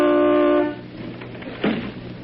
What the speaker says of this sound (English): Well, toot the horn.